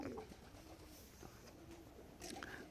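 Pigeons in a loft in the morning, soft low cooing repeating through the background, with a brief brighter flutter or call near the end; fairly quiet overall.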